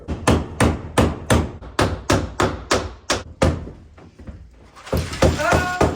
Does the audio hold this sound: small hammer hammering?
yes